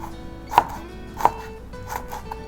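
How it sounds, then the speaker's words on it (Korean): A knife chops halved Cheongyang chili peppers on a board, two sharp distinct chops followed by a few softer cuts over a quiet kitchen background. "반 갈라서 쫑쫑쫑."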